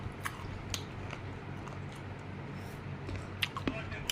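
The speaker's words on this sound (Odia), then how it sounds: "ଆମେ ଖାଉଛୁ ଆମ୍ବ।" Ripe mango being bitten and chewed close up, soft wet bites and squishy chewing sounds with a few sharper crunchy snaps, over a low background murmur.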